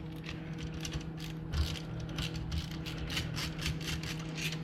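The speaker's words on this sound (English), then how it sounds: "remove this Phillips screw that holds the upper and lower barrel together" A Phillips screw holding the upper and lower barrel together on a Remington 870 tactical express shotgun is turned out, giving faint, close, irregular metallic clicks and ratcheting rattles over a low steady hum, with no voices.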